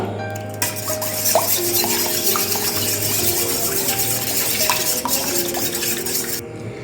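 An egg is whisked into a mixture in a bowl, making continuous close scraping and stirring with occasional light clinks of the utensil against the bowl over a faint background hiss.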